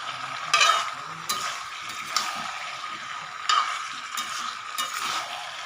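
Fried potatoes and chicken sauté in a pan under a soft continuous sizzle, with a utensil scraping and stirring in several distinct close strokes.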